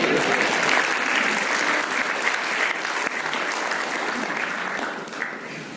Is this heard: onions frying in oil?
no